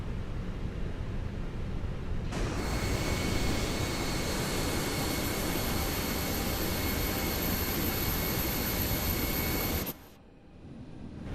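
An Airbus A320's jet engines roar on the takeoff roll in Microsoft Flight Simulator 2020, departing Copenhagen. The steady, loud, dense roar holds for about seven and a half seconds, then cuts off sharply to a quieter background.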